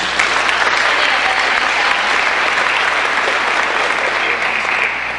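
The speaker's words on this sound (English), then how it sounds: "So another round of applause for them." A large audience at a college athletics hall of fame ceremony breaks into a sustained round of applause, a dense, steady wash of clapping that holds evenly throughout with no talk over it.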